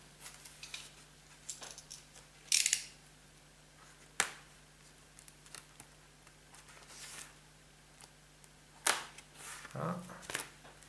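A vinyl record's packaging being opened, with sharp crinkling snaps of plastic wrap and a few scattered crisp clicks and rustles, close by and quiet between bursts.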